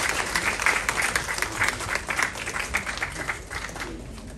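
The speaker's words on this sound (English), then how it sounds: "They deserve another round of applause" An audience at the Ghana Health & Labour Summit claps in a loud, sustained burst of applause that gradually thins and softens toward the end.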